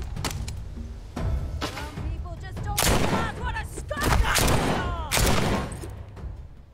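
Gunfire in the VR zombie game The Walking Dead Saints and Sinners: several sharp shots and bursts ring out at irregular intervals, loud and close, with short ringing echoes between them.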